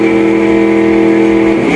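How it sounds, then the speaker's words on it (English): A 1999 Camaro drag car at a Sick Week 2024 drag race roars at a loud, steady, close high-rev pitch, with tire spin on the launch. "he got the tire spin as they loaded up the spicy tune"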